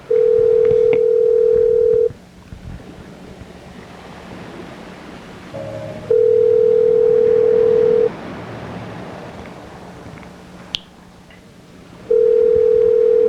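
A telephone ringback tone sounds in three steady two-second bursts separated by quieter line hiss, with faint background noise and a brief click, no voices over it.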